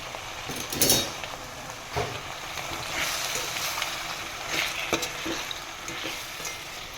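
Muda leafy greens cook in a pan while a utensil stirs them. Scrapes and clinks against the metal rise from a continuous soft sizzle, close and unhurried, with no talking.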